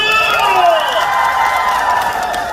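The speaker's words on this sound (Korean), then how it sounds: "서진시와 즐기신 분들 박수!" A concert crowd at Boryeong Central Market's night-market show cheers and shouts loudly, with high voices whooping over light clapping for a few seconds.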